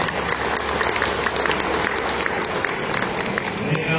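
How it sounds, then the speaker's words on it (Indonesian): A crowd at a 25th wedding anniversary dinner in a hotel applauds, and dense, steady clapping fills the room from start to finish at a lively, even level. "Kita tepuk tangan."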